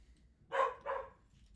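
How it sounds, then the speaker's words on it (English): A dog gives two quick barks in a row, near and moderately loud, against a quiet background. "the dogs go crazy for no reason whatsoever"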